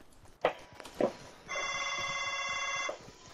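A phone rings in a steady electronic trill lasting over a second during a Fortnite match, preceded by two short footstep-like thuds, clear and fairly close.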